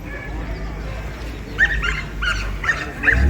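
A dog on a hiking trail yips and barks in a few short bursts in the second half, at moderate distance over outdoor background noise.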